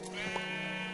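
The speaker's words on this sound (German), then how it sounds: "Da unten sieht man ein rotes Schaf." A single short bleat from a red sheep in the Minecraft video game, heard once at moderate volume over a steady background hum.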